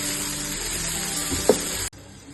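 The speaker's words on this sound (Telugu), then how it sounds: "ఇలా కూడా కొంచెం డీప్ ఫ్రై చేసుకున్నాం." Tomatoes deep frying in hot oil for mutton dum biryani. A steady close sizzle and hiss runs with one brief stirring clink, then the sound cuts off abruptly near the end.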